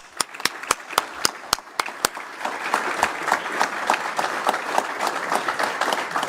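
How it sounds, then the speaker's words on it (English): Audience applause at a Kline energy center press conference for Energy Secretary Wright, opening with loud, distinct individual claps that quickly swell into a dense, sustained round of clapping from the crowd. "give a round of applause, well-deserved, for Secretary Wright"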